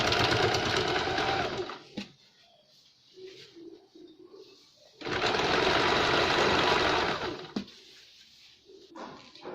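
A sewing machine stitches the bottom hem of a princess-cut boat-neck blouse, running in two loud sustained bursts of rapid whirring with a quiet gap between them, where faint handling sounds are heard.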